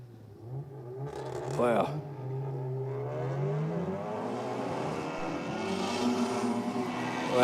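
A Mazda RX-7 race car accelerates off the line with a rising engine roar that climbs through the revs and holds steady. A commentator speaks briefly over it.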